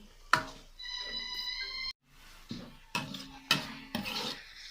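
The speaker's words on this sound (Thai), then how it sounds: "ตอนนี้ก็กำลังเจียวหอมแดงอยู่นะคะ" Sliced shallots frying in hot oil in a pan, with soft sizzling and a spatula scraping and knocking at uneven intervals. The sound is fairly quiet and close, with a brief tonal ring partway through.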